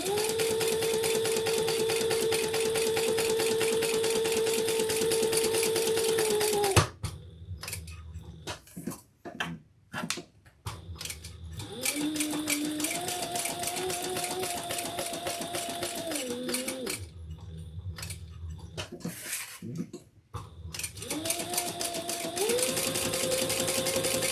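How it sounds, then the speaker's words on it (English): A sewing machine top stitches a handbag, its motor whining steadily through long runs that pause and start again, with soft handling clicks in the gaps, close and alone. "we're going to just do some top stitching"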